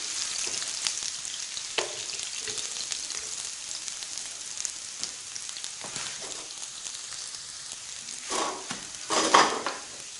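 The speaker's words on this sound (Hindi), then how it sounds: "प्याज फ्राई कर लेंगे सबसे पहले गोल्डन ब्राउन होने तक।" Onions frying in a pan for a desi tinda (round gourd) dish, a steady broadband sizzle throughout with occasional utensil scrapes and clinks, louder stirring bursts near the end.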